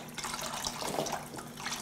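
Water is poured into broth for a Thai tom yum fondue, a short close splashing trickle at steady moderate volume.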